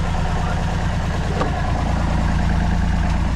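Sailing boat's engine running on a river near Levington Marina, a loud, steady low-pitched drone with a constant hum, unbroken and close, no one talking.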